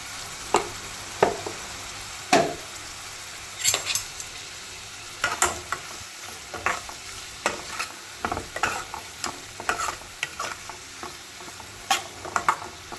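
Onions and spices fry over medium heat in a pan for chapati egg curry, giving a steady soft sizzle broken by repeated scraping and stirring clicks throughout, with no talking.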